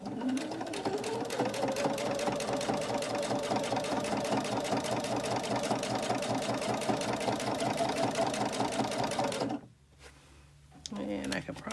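Rapid, even mechanical chatter of a sewing machine stitching a scrappy quilt, running steadily close by for about nine seconds before stopping abruptly, then a short quiet pause with small handling sounds.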